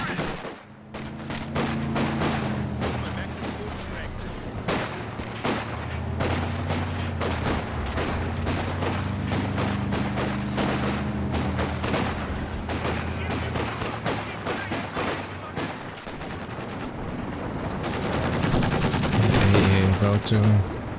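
Gunfire from a World War II real-time strategy game battle, a dense, steady stream of close rapid shots and bursts over low rumbling engine tones, running throughout with loud impacts near the end.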